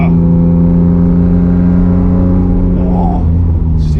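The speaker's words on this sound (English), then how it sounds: "just hear the exhaust like reverberating with these steel barriers of the Armco" Rocketeer Mazda MX-5 fitted with a Jaguar V6 gives a loud, steady deep engine drone under load, its exhaust note reverberating off steel Armco barriers, with a rising whir late on.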